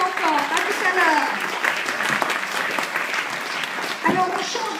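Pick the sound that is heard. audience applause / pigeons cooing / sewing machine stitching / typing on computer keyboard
audience applause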